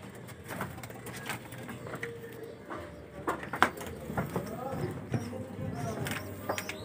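Pigeons coo softly in a low, throaty rhythm, several birds near and far, with scattered shuffling and rustling over a steady background hum.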